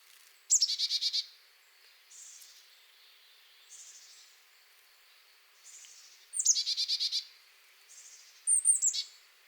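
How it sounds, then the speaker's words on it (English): Chickadee song outdoors: several bursts of rapid, high chirping notes, with two louder fast-paced phrases and softer calls between, clear and fairly near with no talk. "You might think of this as a fast-paced song of chickadee-dee-dee, chickadee-dee-dee"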